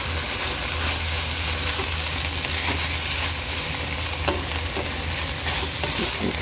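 A chicken pastil mixture is stirred in a sizzling pan, with a continuous close frying hiss and scraping utensil strokes.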